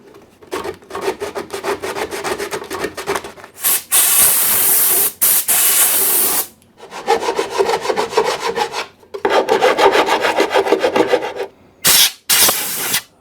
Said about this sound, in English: What I need to do now is clean out the surface in there.